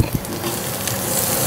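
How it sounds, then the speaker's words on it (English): Sunchokes sizzling and frying in a pan, cooked like hash browns, with a steady close crackle of hissing oil and small pops throughout, no talking. "And you can hear them frying."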